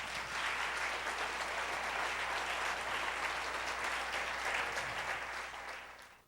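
A large congregation at a Spanish-language church service gives continuous, full applause during a sermon. The dense, even clapping holds steady with little talk, then fades out at the end.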